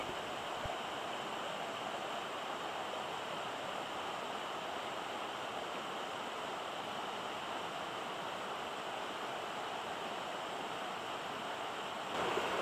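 Steady rushing creek water near Whitehorse Falls in Whitehorse Wildlands Park, a continuous broadband roar held at an even level throughout with no voices.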